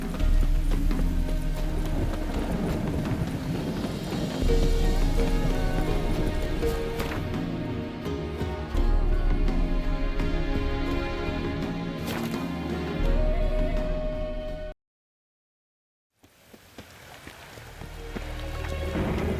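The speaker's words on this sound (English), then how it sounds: "No use doing any work in this rain." Rain falling in The Witcher 3: Wild Hunt, a steady patter layered with horse hooves clip-clopping and game ambience, cutting briefly to silence before resuming.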